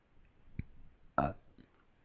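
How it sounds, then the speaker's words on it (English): A small, soft burp sounds once, short and close, with a faint click before it in a quiet setting. "She smiled softly and let out a tiny burp."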